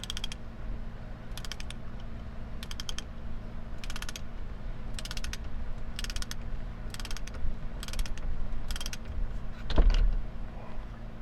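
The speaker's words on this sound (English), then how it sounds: "So now if you crank this, so this will not require a lot of force because this is just a steering." A hand-operated steering mechanism is cranked, giving a run of evenly spaced ratcheting clicks in short bursts over a low mechanical hum, close by, ending with a sharper clunk.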